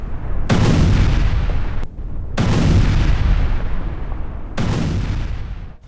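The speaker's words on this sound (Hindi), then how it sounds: "अमेरिकी हमलों के बाद धमाका हुआ है।" Three loud blasts from US strikes on Sirik, Iran, each hitting with a sharp crack and then rumbling off in a long decay, with short gaps between them and no talking.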